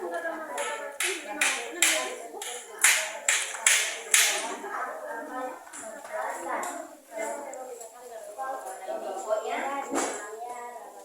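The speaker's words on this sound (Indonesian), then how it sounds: "tepuk tangan untuk kelompok Ar-Rahim" A classroom of students claps for a discussion group in a loud run of rhythmic applause, then the clapping fades into scattered children's chatter and shuffling.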